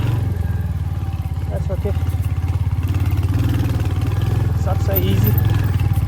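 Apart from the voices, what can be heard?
Hunter 350 motorcycle riding off-road with two people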